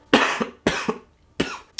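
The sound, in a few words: cough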